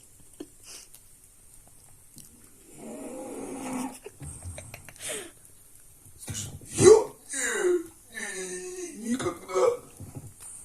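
A French bulldog snores in short rough rattling bursts that swell and fade, close by, while people talk over and between the snorts.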